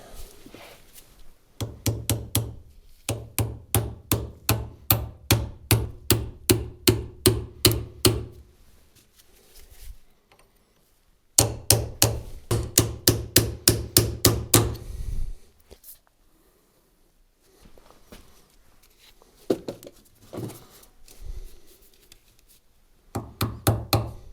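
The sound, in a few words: hammering on metal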